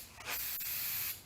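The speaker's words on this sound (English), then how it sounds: "I've just been lightly spraying some texture coat on this." An aerosol can of texture coat paint hisses in one steady, close spray burst of about a second onto a shuttle bus RV bumper rack, with a brief dip midway before it cuts off.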